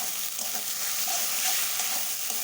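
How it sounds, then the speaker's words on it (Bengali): Spice paste (masala) sautés in a pan for a duck egg and cauliflower curry, producing a loud, dense, continuous sizzle that holds steady, close and alone. "বন্ধুরা মশলাটা ভালো করে কষিয়ে নিচ্ছি"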